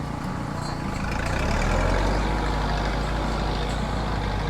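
A tractor engine runs steadily in a flower patch, a low, constant rumbling drone with a slight swell in the middle, fairly near and without talk.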